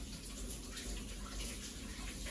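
Tap water runs steadily into a sink while hands are wetted before working sourdough bread dough, a continuous soft gushing with no talk.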